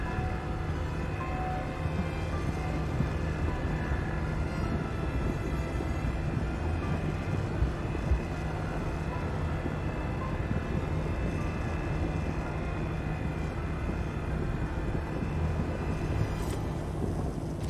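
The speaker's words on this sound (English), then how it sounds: "for some reason the ROC's engine loves to groan now" A continuous, loud engine drone from the ROC mining vehicle in the Star Citizen game, a steady low groan with a constant hum, holding without letup for the full length.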